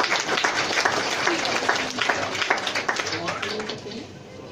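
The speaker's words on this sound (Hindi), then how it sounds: "तालियां हो जाए संदीप जी के लिए एक बार" Applause from an audience for Sandeep ji at a business follow-up and closing meeting, steady dense clapping throughout with a murmur of voices mixed in, tapering slightly at the end.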